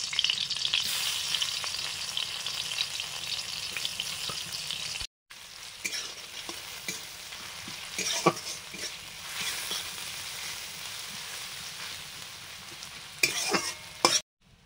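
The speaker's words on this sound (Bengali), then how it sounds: "তেল আর মাছের রান্নাটা করব, মুন পিস, পেঁয়াজ কুচি" Fish pieces and chopped onion frying in oil, a bright steady sizzle close up with occasional stirring scrapes, cut by a brief silent gap midway, then sizzling resumes with a few louder clatters near the end.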